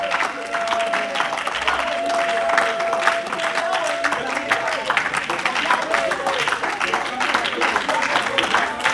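A church congregation claps and cheers together in continuous, loud, dense applause that holds steady throughout, with a sustained tone beneath the crowd noise.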